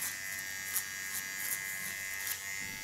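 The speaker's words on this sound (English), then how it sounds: "With my fine small clipper of Kiona, I clean the contour line." A small, fine electric hair clipper hums steadily up close while cleaning up a contour line, with a few brief touches where the blades meet the hair.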